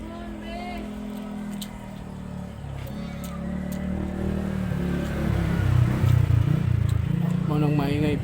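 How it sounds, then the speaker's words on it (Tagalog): Motorcycles rev and pass by on a nearby road, engines rising and fading, with people talking over the traffic noise. "maingay, dumaan sila dito yung mga motor nga sakyanan kasi tabi lang kasi ng kalsada"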